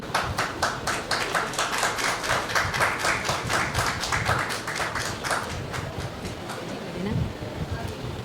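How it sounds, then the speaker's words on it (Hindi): Convocation audience gives Kuldeep Tiwari a long round of rhythmic, steady clapping in unison, loud and sustained for several seconds before tapering, with a voice faintly underneath near the end. "कुलदीप तिवारी जी के लिए एक बार जोरदार तालियां हो जाएं"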